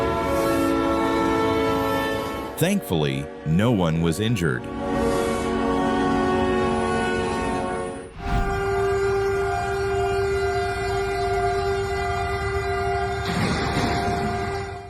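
A train rumbles past at a level crossing and blares its horn in long, loud blasts, with a sustained tonal horn and heavy rolling noise; someone speaks over it early on.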